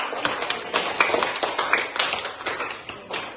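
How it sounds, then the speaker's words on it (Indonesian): Schoolchildren in a classroom clap for a group after its presentation, a scattered patter of hands with uneven bursts rising and falling, fairly close. "tepuk tangan untuk kelompok."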